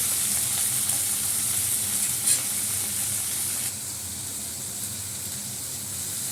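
Onions and tomatoes fry in a pan seasoned with nigella seeds, giving a close, steady sizzle with occasional stirring, easing slightly partway through, with no voices.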